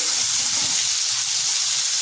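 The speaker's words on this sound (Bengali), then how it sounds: "এরপরে আলুর সাথে ভালো করে মিশিয়ে নিচ্ছি, আর পটলটাও হালকা ভাজা হয়ে যাবে।" Steady close sizzle of pointed gourd (potol) and potatoes being stir-fried together in a pan, an even continuous hiss with faint low stirring movement underneath and no voices.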